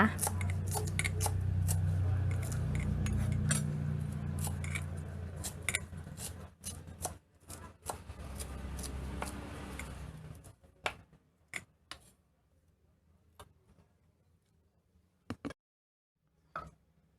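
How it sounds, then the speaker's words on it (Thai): A voice talks at first, then sparse, sharp knife taps chop coriander on a board, irregular and close, with quiet gaps between cuts. "หั่นผักชีใส่ด้วยนะคะ"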